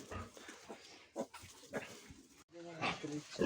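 Newborn piglets squeal and grunt as they are caught during farrowing on a pig farm, the high cries close and sharp, with a person talking over them.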